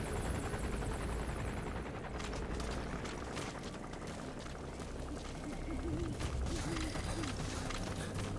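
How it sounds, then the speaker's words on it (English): A helicopter passes overhead in the video game Metal Gear Solid V: The Phantom Pain, its steady rotor roar rising and filling the scene for several seconds, with a voice speaking faintly underneath. "Helicopter's coming over."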